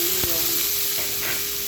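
Onions fry in a pan of oil left over from frying fish, giving a steady close sizzle with a couple of light stirring taps and no voices.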